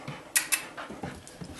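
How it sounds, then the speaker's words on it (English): A dog close by gives a couple of short, sharp yips or whines, with soft panting and snuffling between them, no speech over it. "hello my dog, hi Contra love"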